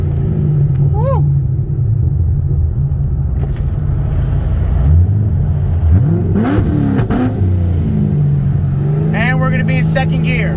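Engines of a supercharged 2003 Ford Mustang Cobra Terminator and a 2008 C6 Corvette roar loudly through a roll race from 50 in second gear, rumbling steadily with rising revs, while people shout and talk over them.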